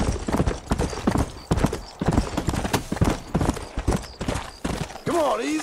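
Rapid clip-clop of horse hooves galloping in the video game Red Dead Redemption, loud and close, with a horse snorting or whinnying briefly near the end.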